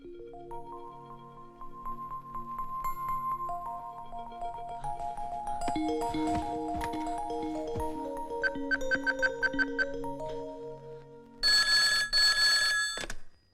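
A telephone bell rings in a burst of rapid, loud, bright trilling near the end, after a stretch of sustained background music in a Hindi film scene.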